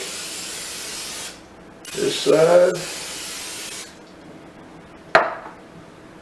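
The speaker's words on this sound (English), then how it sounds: "And we'll coat the bottom side also with our spray." A short hiss of aerosol cooking spray coating chicken on a Pit Boss pellet grill, then a brief voice, and a sharp clatter near the end, all close by.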